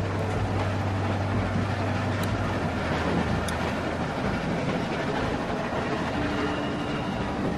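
A moving train in The Walking Dead video game gives a steady, loud rumble and clatter that runs without a break under the game soundtrack.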